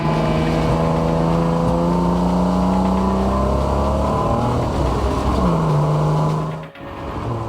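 A Barra-swapped Ford Falcon EL drift car drones loudly on a race track, its engine holding a rough, uneven note with stuttering misfires before the sound abruptly cuts and drops away near the end.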